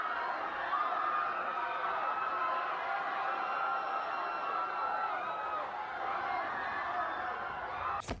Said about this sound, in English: Crowd panic.